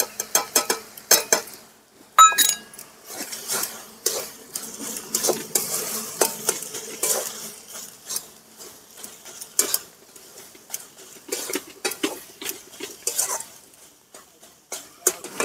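Palm pitha filling being stirred in a pan for chondro puli pitha, with steady scraping and clinking of a utensil against metal and soft sizzling, close and alone.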